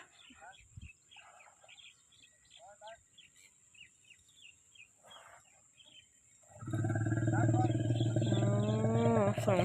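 An angry elephant lets out a loud, sustained roaring trumpet in the final seconds, preceded by quieter chirps and calls in the surroundings with someone talking intermittently.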